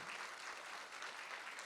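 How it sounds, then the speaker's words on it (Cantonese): An audience at a Sports Medicine Day 2025 closing session claps for the speakers and staff, a steady, even patter of applause that sounds fairly distant and faint, with no talking over it. "今日咧俾啲掌聲我哋啲講師同埋我哋嘅工作人員啦"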